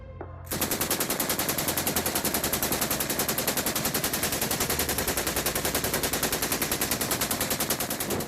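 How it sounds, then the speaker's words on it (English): A machine gun fires one long, unbroken automatic burst on a firing range, loud and close, with rapid evenly spaced reports after a short quiet start. "Let's walk the firing line and meet the legendary machine guns"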